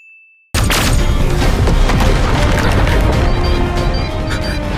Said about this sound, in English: Even the explosion effects are wonderful!